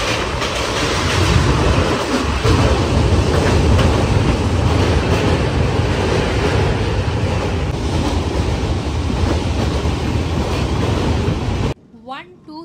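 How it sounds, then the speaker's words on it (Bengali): The Padatik Express runs past Dakshineswar station after leaving Sealdah, a loud continuous rumble and rattle of carriages heard from on board, cutting off abruptly near the end. "শিয়ালদা স্টেশন থেকে আমাদের ট্রেন সামান্য লেটে ছেড়ে এখন ক্রস করছে দক্ষিণেশ্বর স্টেশন"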